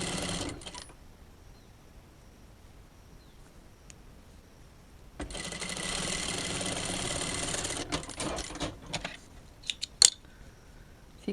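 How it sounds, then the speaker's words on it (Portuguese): A domestic sewing machine stitches back over a fabric seam, a steady mechanical run rising after a quiet start with handling clicks around it. "Vou dar mais um pezinho de máquina aqui, ó, pra mim rebater essa minha costura."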